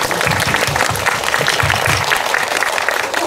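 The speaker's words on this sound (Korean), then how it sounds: "박수 한번 부탁드립니다." Dense, steady applause from an audience at a film screening talk, loud and close, continuing unbroken throughout.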